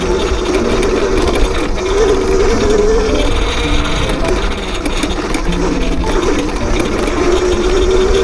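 An X Pro Drax electric dirt bike rides a rocky mountain trail, its motor whining steadily with a rattling, clicking chain and drivetrain. The sound stays close and loud throughout.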